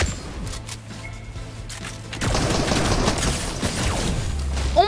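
Video game gunfire from a weapon in an online shooter, a dense burst of rapid shots that grows louder and steadier partway through and then carries on as sustained firing.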